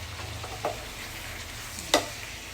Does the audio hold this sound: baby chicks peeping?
no